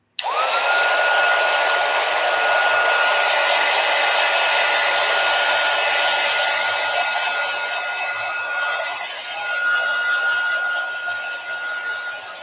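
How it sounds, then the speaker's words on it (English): A craft heat tool blows steadily to dry a journal page, a loud continuous whirring hiss with a high whine, starting abruptly and running close for the full length, slightly wavering near the end. "I'm going to use my heat tool just to dry this a little bit"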